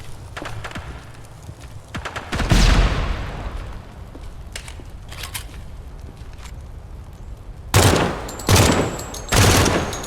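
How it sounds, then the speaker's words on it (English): Burst fire from a gun in Project Silverfish: a few loud, close bursts of rapid shots separated by quieter stretches of scattered clicks and distant pops. "I enjoy the burst fire here a lot"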